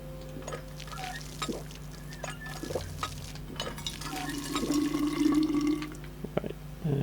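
A fountain in the video game We Happy Few runs with faint trickling and dripping water, set under scattered soft game clicks and thuds over about seven seconds.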